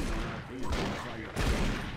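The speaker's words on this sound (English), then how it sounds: "So I'm still using the shotgun because I've got plenty of shells for the shotgun." Shotgun fire in the sci-fi shooter Doom 3, a loud, dense burst of blasts and game noise filling the short stretch, with a sharp fresh hit near the middle.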